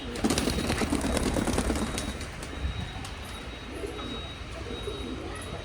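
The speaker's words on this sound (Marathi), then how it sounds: "आपण कबूतर बघा." Pigeons coo in low, soft, repeated throaty calls close by, over a steady background hum, with no voices.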